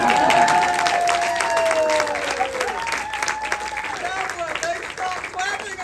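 A crowd at a film expo awards ceremony claps, the broad wash of applause fading gradually while voices and cheers rise over it near the microphone.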